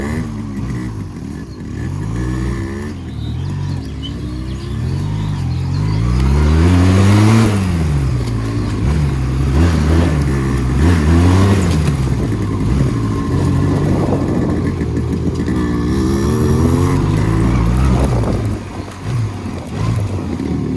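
A Yamaha RX 98cc motorcycle engine revs repeatedly up and down at close range, the pitch rising and falling in surges over a steady idle.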